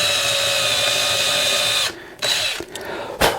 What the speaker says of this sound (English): I'm just drilling basically a small pilot hole to so that I can start the screw.